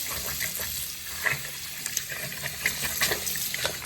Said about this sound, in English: let's give it one more quick scrub to make sure all that dirt is gone